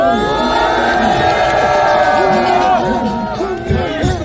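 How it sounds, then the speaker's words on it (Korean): A large outdoor crowd at a street rally with university students cheers and shouts loudly, voices overlapping in a continuous roar with rising and falling yells. "박수 받고 환영해 주십시오"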